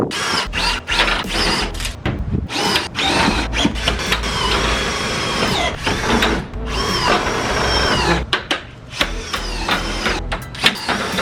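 A power drill drives self-tapping screws through a roof rack track on a CR-V. Loud whirring bursts stop and start repeatedly, each with a rising whine as a screw bites and seats.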